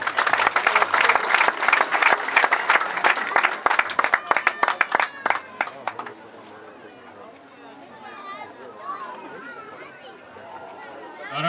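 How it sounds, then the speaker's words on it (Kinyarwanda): Villagers clap loudly in a burst of sustained applause that tapers into scattered claps. Crowd chatter and talking continue after the clapping stops. "mwongere mwiha amashyi"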